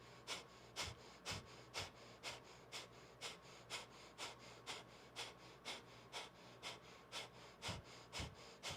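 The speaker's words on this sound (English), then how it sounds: "Inhale and keep breathing, or begin breath of fire." Kundalini breath of fire, rapid diaphragmatic breathing: sharp, evenly spaced nasal exhales pulse about twice per second, close and clear over a faint background hum.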